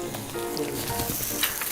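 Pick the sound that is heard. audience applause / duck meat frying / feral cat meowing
duck meat frying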